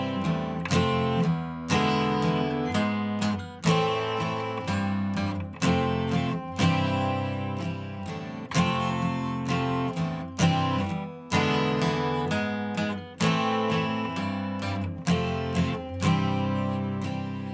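Four bars of guitar playing a song over a walking bass line, strummed chords in a steady rhythm with regular accented attacks, close and loud with no talking.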